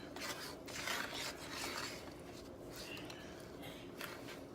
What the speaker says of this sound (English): You want to go ahead and slowly begin to just kind of stir everything up